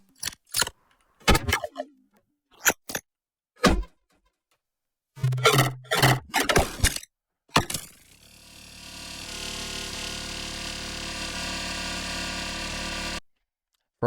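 A weird synth sound from an effect chain with loads of OTT compressors and feedback: a run of sharp, clattering percussive hits, then a dense, sustained buzzing drone lasting about five seconds that cuts off abruptly.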